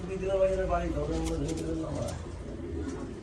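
A male fancy pigeon coos in low, throaty bursts close by, active and aggressive, while someone talks over it.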